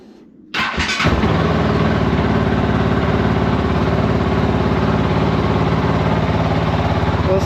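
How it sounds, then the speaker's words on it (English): A Kove 450 Rally motorcycle engine fires up after a short quiet moment, then settles into a steady, close, rapid-pulsing idle that runs alone without any talk. "Now we should be ready to start the bike"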